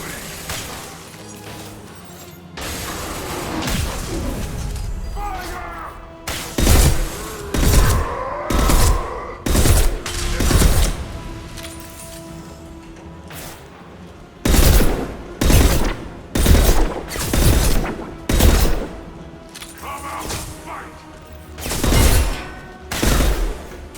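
Gunfire and an impact shot in the Mass Effect video game: loud, close bursts of shots in repeated volleys, several evenly spaced blasts with brief gaps, over a low rumbling battle background with muffled voices.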